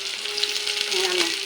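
Onion and garlic fry in a pan for laing, a close, loud, steady sizzle with soft crackles and no voices.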